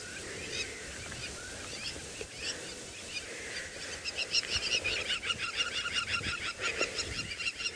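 Harsh, raucous bird calls screech repeatedly as birds dive-bomb a hornbill, growing louder and denser toward the end, over a steady outdoor background hiss on a safari drive.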